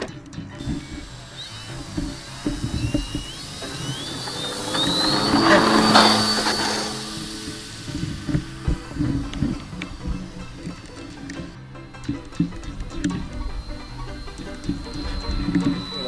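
Twin-engine RC model airplane with 12-inch propellers passes overhead, its electric motor buzz swelling to a peak in the middle and then fading, with faint voices and wind noise around it.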